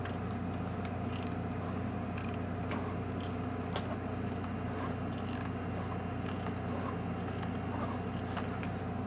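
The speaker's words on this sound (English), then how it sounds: "it's hitting my other pulley" Mechanism pushing too far forward and knocking into a neighbouring pulley, a close continuous mechanical hum with faint creaking and light scattered knocks throughout.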